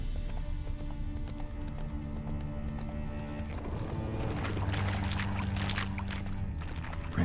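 Roach, Geralt's horse in The Witcher 3, gallops with steady clip-clop hoofbeats and an occasional whinny, loud and continuous over a sustained game music bed.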